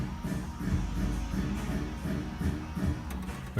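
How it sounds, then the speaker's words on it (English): Brake bleeding pump running on a BMW E92 M3 while the ABS is pulsed, a low steady mechanical hum with faint rhythmic pulsing, moderately quiet and continuous throughout. "that noise you can hear is the pump going"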